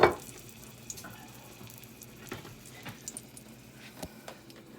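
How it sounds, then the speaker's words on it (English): Onions hit a hot pan for a pot roast, a sharp burst of searing at the start that settles into a quiet crackling sizzle dotted with small pops and clicks. "as soon as this hits the pan, you want to hear that, searing. I got onions."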